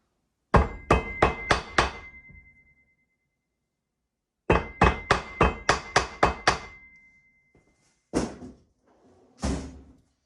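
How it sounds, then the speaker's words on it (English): Sharp metallic hammer blows knocking a metal part flat during a Polaris Sportsman 450 ATV clutch kit install, two quick bursts of about six strikes each, then two heavier isolated knocks, loud and close with silence between. "So you just got to knock that flat with a hammer."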